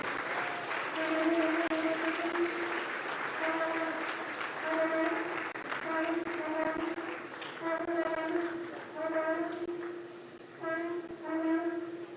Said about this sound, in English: with a standing ovation and a rousing applause